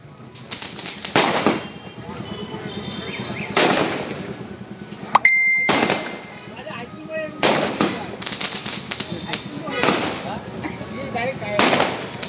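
Firecrackers and fireworks burst repeatedly at a wedding celebration beside a hospital's children's ward, sharp cracks and bangs coming in irregular clusters over a steady background clamour, with voices mixed in.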